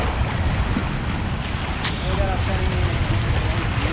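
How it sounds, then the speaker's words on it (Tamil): Small waves on the sea off Doha during a boat ride, a continuous wash of water against the hull mixed with wind buffeting the microphone, fairly loud throughout, with people's voices faintly present. "தண்ணி சின்ன சின்ன சின்ன அலை மாதிரி வந்துருக்கு."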